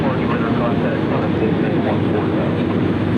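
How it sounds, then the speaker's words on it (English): Boeing 737 MAX airliner inbound from Houston, landing on runway 24 right at Cleveland Hopkins airport, a loud steady roar of jet engines from start to end. "Flight that's inbound, flight 1362, 737 MAX out of Houston, Texas,"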